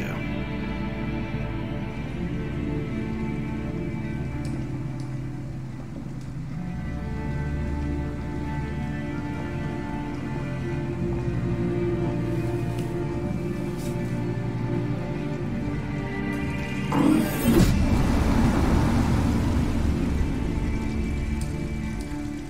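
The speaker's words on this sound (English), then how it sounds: "it's pouring rain" Heavy pouring rain in Detroit: Become Human, a steady close wash of drops beating on surfaces throughout, swelling into a louder rushing burst near the end.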